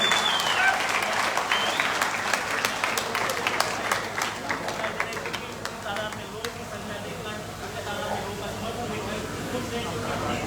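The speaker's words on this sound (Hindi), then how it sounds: "जोरदार तालियों के साथ स्वागत करें, जोरदार तालियों के साथ।" A crowd at a welcoming event at a resort breaks into loud applause, sharp claps swelling early and then tapering to scattered clapping beneath someone speaking over a microphone.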